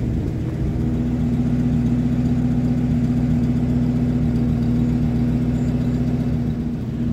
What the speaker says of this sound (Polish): tak pracuje Buick z 41 roku, zaraz po odpaleniu